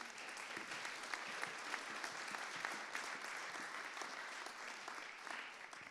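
Quiet, evenly sustained applause from a conference audience at a climate-plan meeting, a soft, distant-sounding field of clapping hands with no voices over it.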